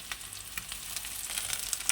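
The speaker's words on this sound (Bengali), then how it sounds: "একটু ভেজে নেব একটু দিয়ে দেবো নুন আর পেঁয়াজটা ভাজা হয়ে গেছে" Onion frying in a pan with salt and a little ginger paste, a close, light sizzle with scattered sharp crackles and pops.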